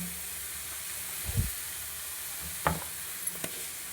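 Vegetables with chili powder, chaat masala and garam masala frying in a pan for fried rice give a steady soft sizzle, with a few brief clinks and scrapes of stirring on top.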